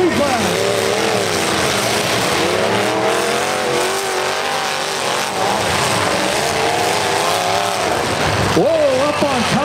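Prostock demolition derby cars roar off at the start of a heat, engines revving hard with tires squealing, while an announcer talks loudly over the crowd and motor noise throughout.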